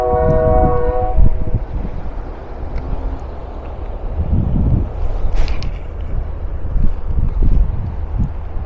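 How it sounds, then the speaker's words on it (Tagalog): A train passes near a river, a loud, steady low rumble with a horn blast early on, continuing throughout with no talking. "Maingay yung train guys, pasensya na. Train yung maingay."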